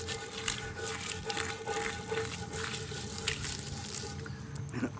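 Hot water runs from a tap while cast iron cookware is rinsed, a steady, fairly loud splashing hiss with small bursts of spatter, continuous throughout without any talk.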